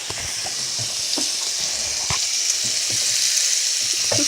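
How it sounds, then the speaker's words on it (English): Gumbo ingredients sauté in a cast iron skillet with a steady, close hiss of sizzling oil and a few light scrapes and taps of stirring, loud and continuous throughout. "we're going to saute these up, and as soon as they get brown, we're going to let you know"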